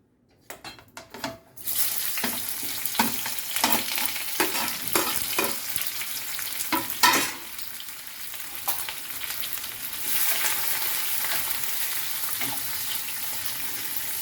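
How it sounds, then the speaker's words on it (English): Sliced onions frying in a generous pool of oil for chicken biryani, a steady hiss and sizzle with repeated scraping stirs, preceded by a few clattering knocks as they go into the pan. "So first thing is we are going to fry these onions golden brown."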